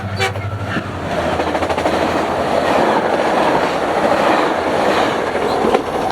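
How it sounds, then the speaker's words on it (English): A Metrolink commuter train led by locomotive MP36895 rolls past at the Commerce station, loud and close with a steady roar and rhythmic wheel clatter after a brief horn-like onset. "I would see Metrolink 618 heading to Laguna Niguel with MP"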